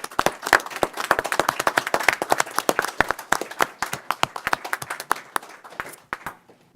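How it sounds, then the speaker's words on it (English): Applause at a board meeting from a small group, with distinct individual claps close by, rapid and uneven, lasting nearly seven seconds and thinning out toward the end. "a big round of applause for being such great neighbors"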